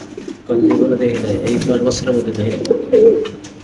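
Fancy pigeons on a pigeon farm coo close by, with repeated low throaty calls that rise and fall continuously.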